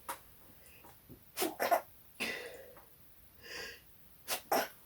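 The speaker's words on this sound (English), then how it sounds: "I'm gonna sneeze." A single sneeze bursts out amid a few sharp breaths and sniffs, close and fairly quiet, with no talking.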